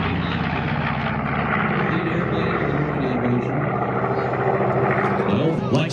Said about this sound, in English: The C-47 coming in.